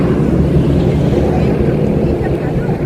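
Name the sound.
wind blowing at a parking place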